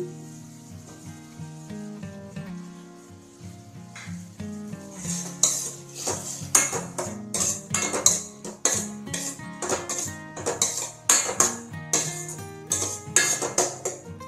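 A knife finely chops half a ripe tomato on a board: soft at first, then a quick run of crisp, rhythmic taps under background music.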